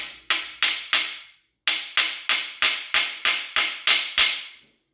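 Eleven sharp metallic hammer blows on a Triumph TR6 engine part being driven into place, in two quick runs, three strikes, a short pause, then eight more at a steady rhythm, loud and close.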